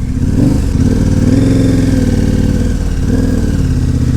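A KTM motorcycle engine runs with a steady, close, throbbing drone. The pitch rises and falls slightly, and there is no talking.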